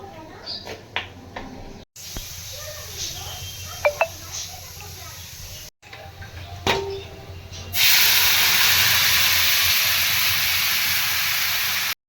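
Oil for matar paneer is poured into a preheated pan and erupts into a loud, steady hissing sizzle that fills the last few seconds, following quieter kitchen clatter and brief talk.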